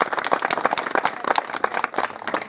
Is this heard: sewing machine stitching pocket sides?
no